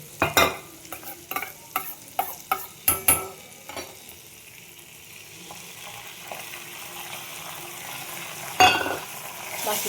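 Paneer is stirred in a pan over a low flame, with a series of scraping, clattering strokes at first, then a quieter, steady sizzle of frying and one more clack near the end.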